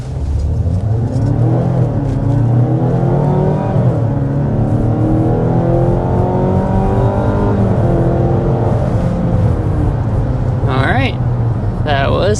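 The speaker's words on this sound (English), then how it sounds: "But first, we need to start with a hard acceleration." A 2026 Mazda CX-90 accelerates hard to 60 mph, the engine roaring louder and climbing steadily in pitch, then easing off; brief voices and chimes near the end.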